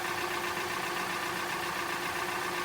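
A Hyundai Elantra engine idles steadily with a constant low hum and faint rattle, unchanging throughout, in a car with a stalling fault.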